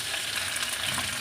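Vermicelli (sawaiyan) frying in a pan for a sweet Punjabi dish, a steady, close broadband sizzle that holds evenly throughout with no talking.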